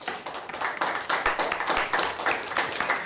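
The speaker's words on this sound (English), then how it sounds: "Let's give them a nice round of applause." Studio audience claps for a high school quiz team on a televised quiz show, a steady patter of close, moderate applause lasting about three seconds.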